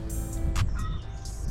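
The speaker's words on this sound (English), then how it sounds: "Chickens are very noisy, they're getting closer." Chickens cluck and squawk close by in a backyard, a few quick sharp calls over a low steady background hum.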